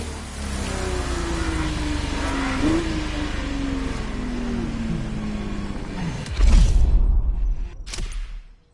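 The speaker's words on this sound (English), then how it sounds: "The car you're about to drive in this opening event is none other than the first Ferrari in the supercar bloodline, the Ferrari GTO." Ferrari GTO engine in The Crew Motorfest, a steady droning engine note with shifting pitch as the car drives, swelling into a louder rush near the end before cutting out.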